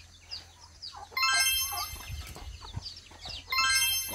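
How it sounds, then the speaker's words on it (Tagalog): Backyard chickens raised on a small farm cluck and call repeatedly, with a rooster-like crow rising in bursts, close and fairly loud against a low background hum. "Mga manok na aming inaalagaan."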